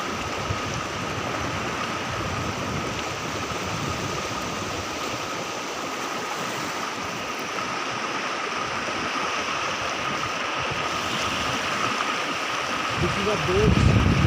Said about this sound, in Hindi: This is a boat